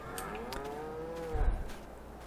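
Cows moo in the Farming Simulator 22 video game, one drawn-out low bovine call rising and falling over about a second, followed by a brief thump, with quiet ambience and no talking.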